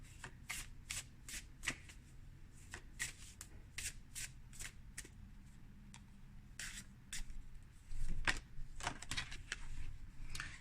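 Oracle cards are shuffled repeatedly, a series of quick papery riffles and slaps in uneven bursts, close up with no talking.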